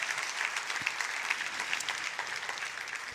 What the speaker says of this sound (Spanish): Dame un aplauso bien fuerte al Rey.